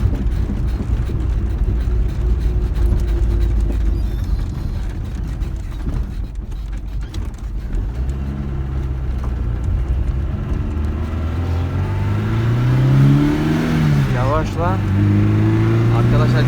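A 1988 Tofaş Şahin car's engine pulls and rises in pitch while driving, a steady close drone that climbs toward the end, with someone talking over it.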